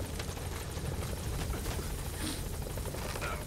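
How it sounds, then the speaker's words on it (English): Helicopter in the video game Metal Gear Solid V: The Phantom Pain, a loud, steady rotor roar that fills the whole stretch with dense broadband noise, no voices. "I need this helicopter to leave."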